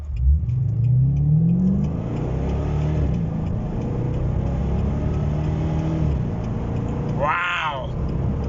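A Chevrolet Lumina SSV pulls away hard from a standstill, its engine note rising through a gear before settling into a steady drone, with a brief voice exclamation near the end.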